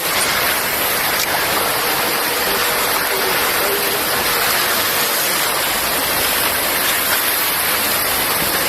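A loud, constant roar of rushing water from a waterfall near Zurich, Switzerland, dense and unbroken for the whole stretch, with no voices.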